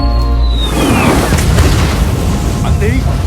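A deep boom rolls out from war-film bombing by American planes, loud and close, with a falling whistle before it and a rumbling decay after it.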